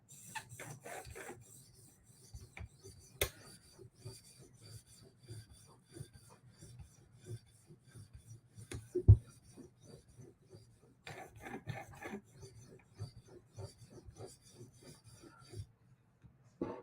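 A knife blade is stroked across an 800 grit sharpening stone, giving quiet, rhythmic scraping passes in short bursts with small pauses between sets, heard close and alone without talk.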